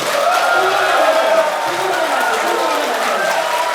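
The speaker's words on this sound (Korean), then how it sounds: "어디 박수 소리 좀 한번 내주세요." Party members at a Liberty Korea Party training meeting in Jungnang clap on request, a loud dense wall of applause with cheering and shouts mixed through it, close and sustained.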